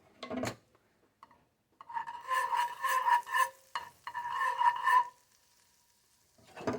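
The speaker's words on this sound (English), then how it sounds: "I put more butter in the pan for it to melt." Butter melting in a frying pan for a Muenster grilled cheese sandwich, cooked off the grid, gives a steady close sizzle in two long stretches, with brief knocks of the pan at the start and end.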